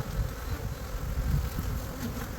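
Honeybees buzz steadily around a nuc box in a dense, continuous drone, close and fairly loud throughout.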